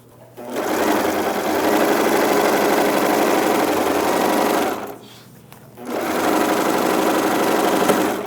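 A sewing machine stitches a jeans hem with a loud, fast, steady mechanical whir. It stops for about a second, then runs again to finish with a backstitch.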